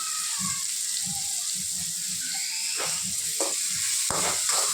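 Onions frying in oil with salt for a potato masala gravy, a steady hiss of sizzling under soft knocks and a few sharper scrapes of stirring near the end.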